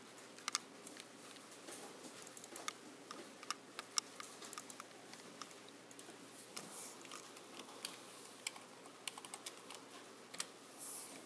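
Computer keyboard typing during coding, with scattered individual key clicks and short runs of taps, quiet and close in a calm room with no talking.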